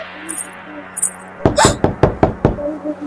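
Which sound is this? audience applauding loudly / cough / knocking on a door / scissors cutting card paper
knocking on a door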